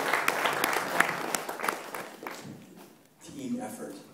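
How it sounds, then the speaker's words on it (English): Brief round of audience applause at a talk in Berkeley, dense clapping for about two seconds that quickly dies away, followed by a voice speaking. "let's just give one more round of applause to everyone who helped make this event possible, to Flavia and the cooks, everyone."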